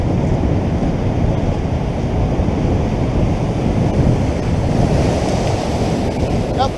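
Ocean surf at Muriwai Beach, New Zealand, roars continuously and loudly at close range, with wind buffeting the microphone while someone surfcasts from the shore.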